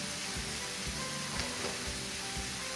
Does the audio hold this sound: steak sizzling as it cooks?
yes